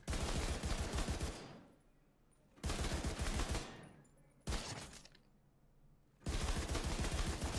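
Auto rifle fire in The Division 2, three long, loud bursts of rapid automatic shots separated by short pauses, with a fourth burst starting at the end, all close and dominant.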